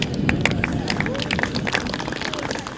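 Crowd applause for the Maribor football association president at a local football event: dense, steady clapping with crowd hubbub for about three seconds, with voices talking over it.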